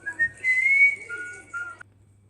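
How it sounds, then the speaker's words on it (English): A pink cartoon rabbit in a children's animated series whistles a short, cheerful tune in clear, sliding notes, close and alone, ending abruptly into silence. "whistling to herself"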